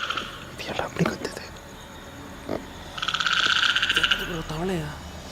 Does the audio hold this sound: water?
no